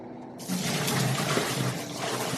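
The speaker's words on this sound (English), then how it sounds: "I'm just gonna essentially overlay the coffee on top of them, let them get a last rinse" Water runs in a sink as coffee-dyed Nike Air Force 1 sneakers get a final rinse, a sudden start of steady close splashing and trickling that continues to the end.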